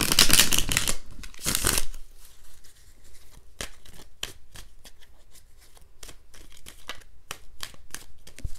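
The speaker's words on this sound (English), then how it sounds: "one more shuffle" Tarot cards are shuffled close up, starting with a couple of loud riffling bursts, then a quieter run of scattered soft card taps and slides.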